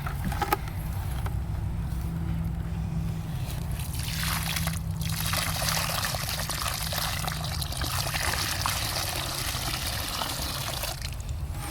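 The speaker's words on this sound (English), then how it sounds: "Okay, so let's pour some of this water." Water poured steadily into a farm-made mixture, a continuous trickling and sloshing pour that runs close and fairly loud for the length of the clip, with no talking over it.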